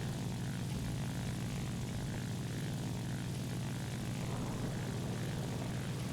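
Propeller-driven fighter engines from an LA-5 and a Focke-Wulf in the War Thunder video game make a steady, continuous droning roar at moderate level, with no talking.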